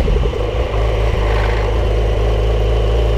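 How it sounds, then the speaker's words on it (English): Porsche 911 Carrera GTS engine and exhaust running with a loud, steady, raw low rumble and slight revving, close by and continuous, with no voice over it. "And now that is the sound of a 911 Carrera GTS."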